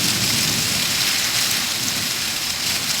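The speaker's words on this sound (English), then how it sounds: "Thunderstorm in the sky." Heavy rain pouring steadily during a thunderstorm, a dense, loud hiss of drops close by with low rumbling beneath, continuous and with no voices.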